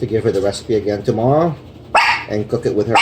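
A pet dog barks and whimpers in short bursts in a home kitchen, mixed in with a person talking steadily nearby.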